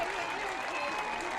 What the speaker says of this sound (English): let's give all the attendants and candidates one more big final round of applause